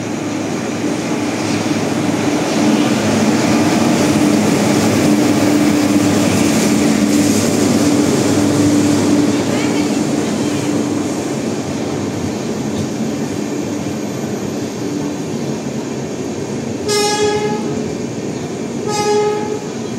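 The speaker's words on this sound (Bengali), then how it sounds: "ট্রেন আসছে, ট্রেনের অ্যারাইভালটা তোমাদের দেখাচ্ছে।" The Gaya-Kamakhya weekly express rolls into Malda Town station with a loud, sustained rumble of wheels and carriages, then sounds two sharp horn blasts near the end.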